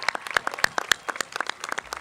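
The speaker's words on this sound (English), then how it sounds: "Can we give Ms. Diaz a round of applause?" Sparse applause from a graduation ceremony audience at a high school, with individual claps standing out in an uneven, thin patter rather than a dense roar, moderately close and without speech.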